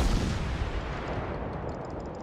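Booming naval gun salvos firing armor-piercing rounds in World of Warships from the destroyer Novik, a continuous deep rumbling roar with low-end blasts, no voices.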